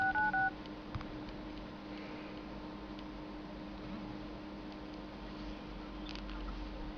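Keypad tones from the phone dialer on a Wiko Rainbow: a quick burst of beeps at the very start, followed by faint ticks over a low steady hiss.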